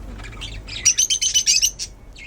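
African pet birds in a bird shop chirp and squawk in a quick run of sharp, shrill calls, fairly close and clear over a low background hum, then fade off.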